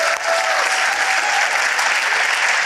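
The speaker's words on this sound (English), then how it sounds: "Can I get a round of applause for that?" Loud, steady applause from a large seminar crowd, dense clapping sustained throughout without pause.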